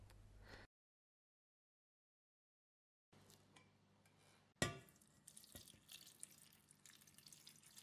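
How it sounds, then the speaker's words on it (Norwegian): Eight decilitres of water poured into a pot of cauliflower florets for cauliflower soup, a splashing, running flow that starts after a silent gap and continues steadily with a sharp clatter near the middle. "Hell over 8 dl vann."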